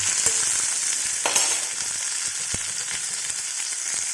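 Bitter gourd pieces frying in a pan for a chutney, a steady close crackling sizzle with a few sharper pops and taps of stirring, no voices.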